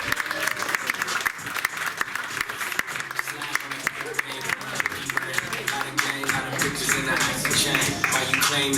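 Audience applause and cheering at a live comedy show welcoming Instagram influencer Brittany Alexis to the stage, a dense steady roar of clapping that swells toward the end, with voices mixed in.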